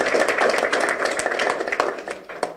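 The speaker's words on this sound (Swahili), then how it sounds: "Makofi mengi sana kwa Simba Sports Club." Crowd applause for the Simba Sports Club football team at a sponsorship signing event: dense, steady clapping from many hands that holds for a few seconds and then thins slightly.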